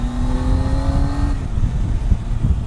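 A 2018 Triumph Tiger 800 XRt motorcycle with an 800cc engine accelerates, its rising engine whine climbing steadily before dropping into a rougher, rumbling tone, heard up close from the rider's position.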